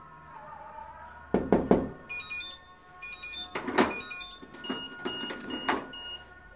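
Knuckles rap on a door fitted with an alarm lock in short clusters of two to four sharp knocks, after which the alarm emits faint electronic beeping tones between the knocks.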